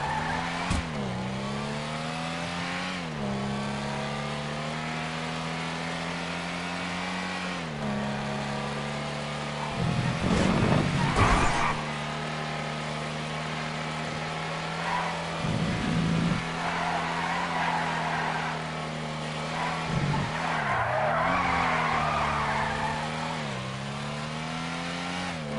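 A Marcher GT sports classic car in a video game, its engine droning and shifting pitch as it accelerates and brakes, with several tire squeals and skids along the run, loud and close, no talking.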